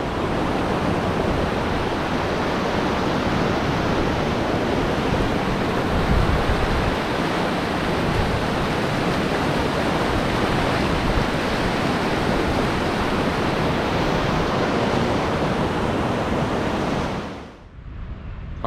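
A mountain creek rushes steadily and loudly close by in a remote eastern backcountry setting, a dense broadband roar with no voices, cutting off abruptly near the end.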